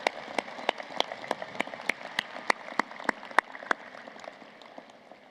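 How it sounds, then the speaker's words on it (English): Applause for finalists at a university commencement, a thin crowd of distinct claps with rhythmic sharp hand claps standing out near the microphone, gradually thinning toward the end. "One more round of applause for the finalists."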